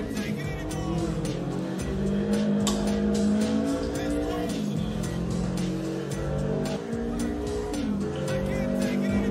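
Go-kart engine whining loudly and continuously, with pitch sweeps as it accelerates and slides through drifts, tire squeal mixed in; people talk and exclaim over it.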